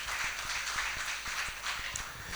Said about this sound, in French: que je vous demande d'applaudir également.